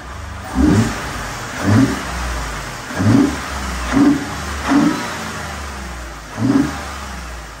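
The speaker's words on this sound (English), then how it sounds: "fun to hear the, uh, the turbo sound of the engine" A turbocharged 3.5 EcoBoost engine in a Ford F-150 pickup revs in six short bursts at a steady rhythm, each swell rising and falling quickly over a low idle, close by with no talk.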